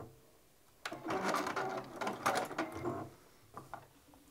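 Sewing machine backstitching the side seam of an elastic waist skirt, a close, quiet mechanical chatter lasting about two seconds, stopping, then a brief final stitch burst, with no talking.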